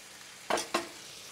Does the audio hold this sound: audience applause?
no